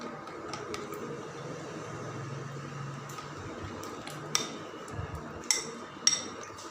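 A garlic, ginger and green chilli paste is stirred into a masala for chicken leg pieces, with soft, steady mixing and a few light clinks of utensil against bowl near the end.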